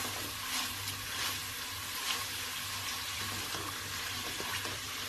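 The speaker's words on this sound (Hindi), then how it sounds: "अब ये देखें फ्राई हो रहा है" Masala spices fry in a pan for aloo gobi, giving a soft, steady sizzling hiss close by with faint stirring and no voices.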